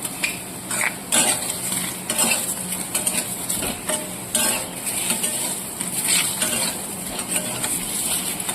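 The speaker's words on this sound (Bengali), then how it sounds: "এবার আমি ভালো করে নাড়তে থাকবো।" Raw green mango chutney with salt and turmeric being stirred in a pan, a steady scrape of spoon against metal with light clinks and sizzle continuing throughout, close and fairly loud, no talk.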